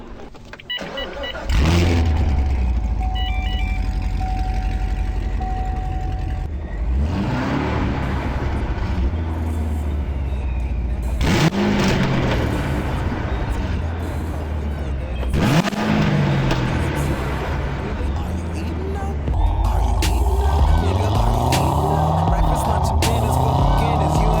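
A supercharged Corvette engine cranks and catches, then idles and revs in several rising bursts, close and loud, with a brief whirring motor before the first start.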